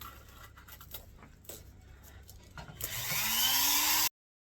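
A Dremel rotary tool fitted with a 108 bit carves stars into a wooden wavy American flag. Faint taps come first, then the motor spins up into a loud, rising whine that runs steadily for over a second before stopping abruptly.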